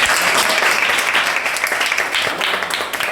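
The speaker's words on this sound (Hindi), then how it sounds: "ताली बजाओ।" Audience at a school teaching-aids exhibition clapping in dense, steady applause that holds for about three seconds, close and fairly loud with no voices over it.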